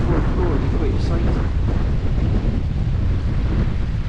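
Strong wind on a steep hillside beside a stream, a loud continuous roar buffeting the microphone throughout with no break.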